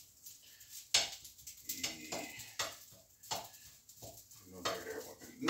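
Rice being reheated in a frying pan, with repeated clinks and scrapes of a utensil against the pan and a soft sizzle between them, close and fairly quiet, with only a brief spoken sound.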